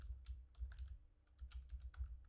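Keys on a computer keyboard clack in quick, uneven bursts as a command is typed, faint and close with no voices.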